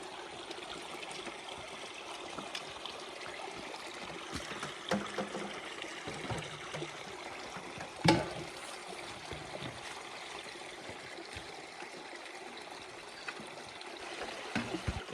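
Clean spring water from a roadside source in the Canadian bush flowing steadily as a soft, continuous trickle, faint and even, with one brief louder splash partway through.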